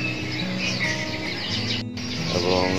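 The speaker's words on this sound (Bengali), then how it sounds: "চতুর্দিকে পাখির কিচিরমিচির শুনতে পাচ্ছি" Birds chirp and tweet outdoors on a cool morning, a steady chorus of overlapping calls with only a very brief pause.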